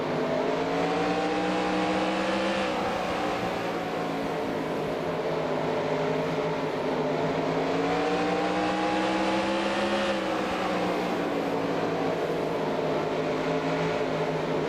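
Race car engines from the NASCAR Racing 2003 game at Oxford Plains, a continuous loud droning pack of engines with pitch rising and falling together, steady throughout.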